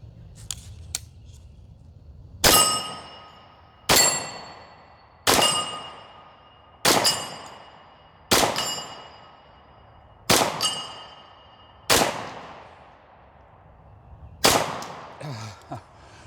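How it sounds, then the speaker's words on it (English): Eight sharp, loud gunshots from a Ruger LC Carbine ring out one at a time at uneven intervals of roughly one to two seconds, each with a quick decaying tail and no talking. "So let's shoot some more."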